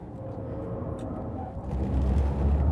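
A Porsche Taycan electric car in Sport Plus mode at the Nürburgring gives a steady low whine and rumble of motor and road noise from inside the cabin, swelling louder toward the end.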